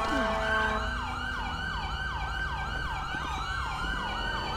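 A police car siren in the LSPDFR video game wails loudly and continuously in repeated rising and falling sweeps, close and alone over a low engine hum.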